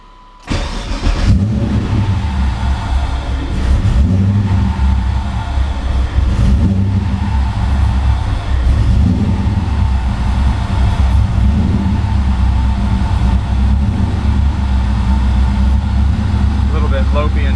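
A 1993 Mazda RX-7 rotary engine cold-starting at about 60 degrees, catching after a brief crank and then idling steadily and loudly up close, slightly lumpy at first before smoothing into a solid idle.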